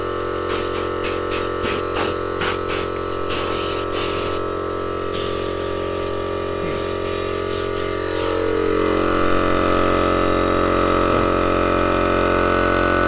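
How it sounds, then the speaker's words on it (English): A slightly dirty air compressor runs beside an interlocking brick machine for concrete blocks, with a steady loud mechanical hum throughout and bursts of sharp hissing air in the first eight seconds. "this air compressor is supplied air. Supplied air to the machine."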